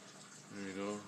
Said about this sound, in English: I'll fill up my airlock